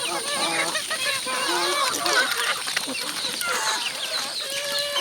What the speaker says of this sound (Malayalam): അതാണ് കോഴികൾ വലിച്ച് വാരി തിന്നാണ്